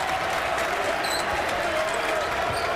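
A large basketball crowd at the Coliseum in Winston roars steadily in a dense, unbroken wash of cheering, with a few whistles rising above it.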